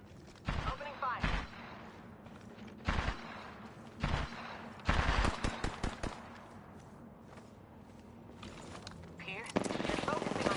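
Gunfire in the shooter Apex Legends comes in several loud, rapid bursts of automatic shots separated by short pauses, close and sharp over a constant low game background.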